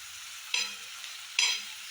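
A vegetable with turmeric sizzles softly in a pan, with two brief bursts of louder frying as it is stirred.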